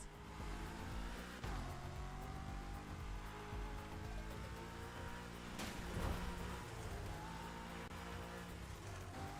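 A high-revving Porsche 911 Turbo 3.6 engine in the racing game The Crew Motorfest roars continuously with gear shifts and surges, loud and close throughout, without talking.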